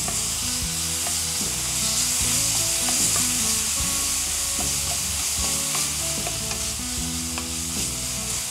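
Ingredients frying lightly in a pan, a loud continuous sizzle with a spoon scraping and stirring in irregular knocks throughout, no talk.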